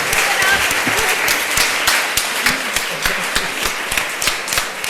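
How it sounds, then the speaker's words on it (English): A live audience at an on-stage conversation event bursts into loud, dense applause, steady clapping filling the whole stretch with sharp individual claps standing out. "Give her a round of applause."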